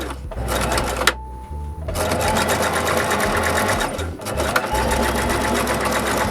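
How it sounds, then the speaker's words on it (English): Sewing machine running in steady bursts as it stitches over the overlapped ends of an elastic waistband on boxer shorts, with one short pause partway through; close, loud and continuous. "just place both of the ends on top of each other and sew a few times over them to secure them"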